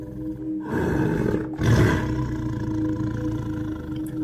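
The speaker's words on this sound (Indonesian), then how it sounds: "suara auman harimau di kejauhan" A tiger roars at night on Mount Gede, a long, loud, rumbling roar that swells twice and then trails into a sustained growl.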